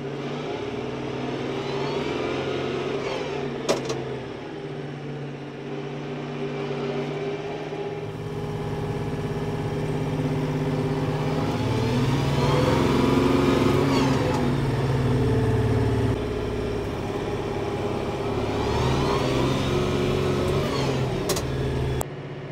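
A Kioti tractor engine rises and falls in pitch as the forward pedal is pressed, a steady mid-range drone with two smooth revving swells and a couple of faint clicks, no talk.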